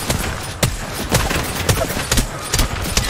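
Rapid bursts of gunfire from the video game Apex Legends, sharp repeated shots crackling in uneven clusters over a dense, busy game-audio background with no one speaking.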